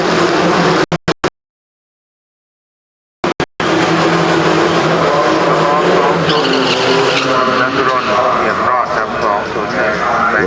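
Drag racing cars roaring down lanes A and B, a loud sustained engine blare that cuts out into silence, then bursts back to full volume, with an announcer talking over it.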